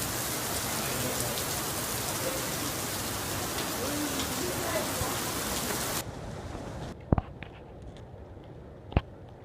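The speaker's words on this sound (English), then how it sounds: "all of a sudden it starts raining. I mean, not just a little drizzle, pouring." Heavy rain pours down steadily, a loud dense hiss for about six seconds before cutting to a quieter passage with a couple of sharp knocks.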